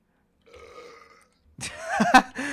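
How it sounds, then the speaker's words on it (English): A character belches in the driving and life sim My Summer Car, a loud, close, drawn-out burp that follows a faint murmur, inside a shop in front of the shopkeeper. "Just burps in front of a shopkeeper's face."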